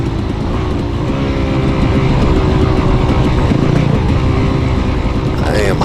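Dirt bikes racing through the woods, a loud close engine droning and revving steadily the whole time, with a brief sharper rise in pitch near the end as the throttle opens.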